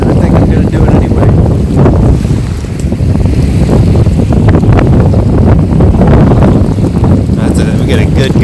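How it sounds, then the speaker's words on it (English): Strong wind gusting over a winter lake while catfishing, loud roaring buffets of wind noise on the microphone, sustained with a brief dip, and a voice faintly under it. "We got a good gust blowing through right now."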